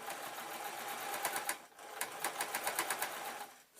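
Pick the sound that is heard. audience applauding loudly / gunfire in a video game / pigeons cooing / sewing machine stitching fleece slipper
sewing machine stitching fleece slipper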